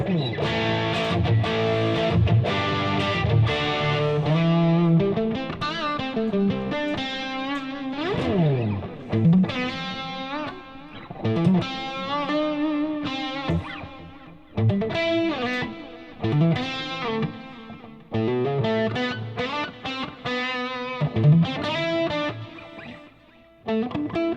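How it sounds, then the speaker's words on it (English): A distorted electric guitar plays chords and quick melodic runs through a Fractal modeler and a tube amp, with a thick, driven tone and some swirling effects. "I'm playing through Fractal and a tube amp right now"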